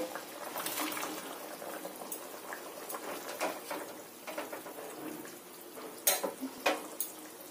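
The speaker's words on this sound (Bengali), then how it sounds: "ঝোলটা আমার খুব ভালো রকমই ফুটছে।" A watery curry gravy for lentil-and-egg fritters bubbles in a pot, soft, fairly quiet burbling with scattered pops and a few sharper clinks near the end, no voices.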